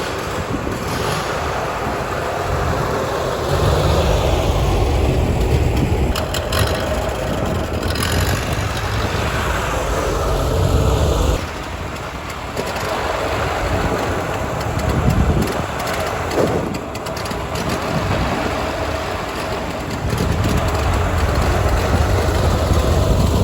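An abandoned Ferguson TO-35 tractor engine runs and idles roughly and unevenly, with a low, heavy chugging that surges and dips in level over a long stretch, close by and without talk.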